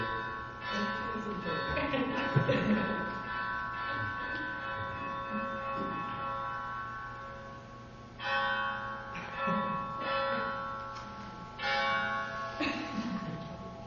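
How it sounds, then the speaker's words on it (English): A bell rings continuously in long, sustained tones that hum and overlap for the whole stretch, swelling again partway through, with no talk over it. "it seems interminable, the ringing of the bell."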